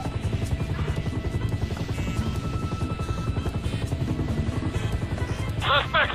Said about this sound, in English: I see the chopper.